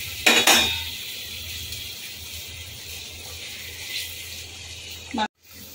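Bhetki fish pieces drop into a pan of spiced gravy with a short splash and clatter, then a low steady simmer and faint pan clinks, ending in a brief knock before sudden quiet.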